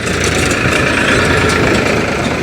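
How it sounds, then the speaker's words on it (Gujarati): A tractor engine travelling with a walking group of pilgrims on the road from Ahmedabad to Chotila. It gives a steady, close, rumbling idle-like drone with no break or voices. "સંઘની સાથે આ ટ્રેક્ટર પણ નીકળી ગયું છે,"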